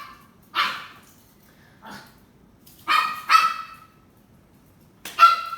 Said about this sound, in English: my two dogs are playing